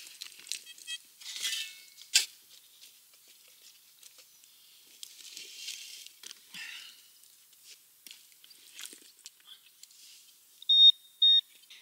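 Metal detector beeping during a search for finds in the ground: scattered short electronic signal tones, then two sharp, clear beeps near the end, with faint rustling and handling sounds in between.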